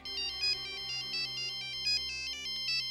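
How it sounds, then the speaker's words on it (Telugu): A phone ringtone for an incoming call plays a bright, repeating electronic melody in steady pulses, heard clearly and alone in a crime drama scene. "రాహుల్ ఇక్కడున్న టెన్షన్ సరిపోలేదని మళ్ళీ ఫోన్ చేశాడు."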